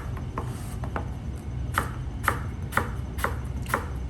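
A sharp knife slices through an apple on a board, making a series of short crisp cuts spaced about half a second apart, close and fairly quiet against a low background hum.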